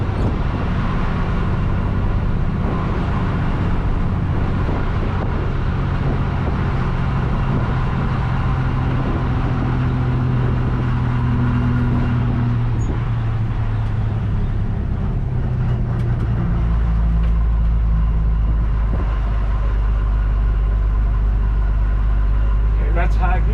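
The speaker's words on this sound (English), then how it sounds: "Up to 10 miles an hour in high gear, and I think it's going to pull out of it." A 1963 GMC service truck engine labors in high gear at low speed, a loud steady rumble that deepens near the end, with someone talking over it.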